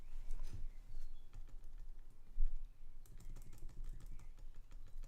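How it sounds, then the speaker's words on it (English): A computer keyboard is mashed rapidly during a Professor Layton and the Spectre's Call speedrun, a quiet close clatter of keystrokes that thickens into dense typing in the second half. "Me mashing my keyboard won't be so loud then."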